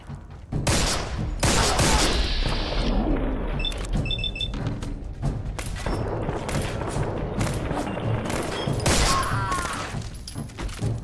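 Video game gunfire comes as loud, dense volleys of rapid shots with heavy booming impacts, nearly continuous over several seconds, with brief lulls between bursts.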